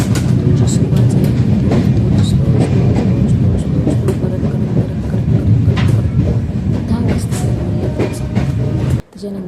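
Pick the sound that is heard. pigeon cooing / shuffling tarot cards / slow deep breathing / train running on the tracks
train running on the tracks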